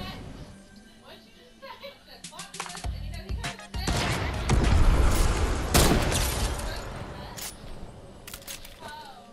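Gunfire from the Fortnite video game crackles in sharp bursts and single shots under frequent talking by a young player, with a denser flurry of shots in the middle.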